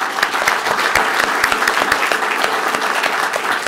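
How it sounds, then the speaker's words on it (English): A conference crowd at a defence and security session applauds, with many hands clapping in a continuous loud patter and some sharper individual claps standing out, and no speech on top. "Let's give a round of applause to Beth."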